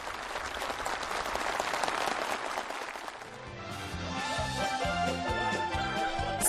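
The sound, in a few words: enthusiastic applause from participants at a meeting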